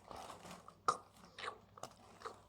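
Crunchy snack, a cookies-and-cream style treat, bitten and chewed up close, with a few sharp crunches standing out over softer chewing across a couple of seconds.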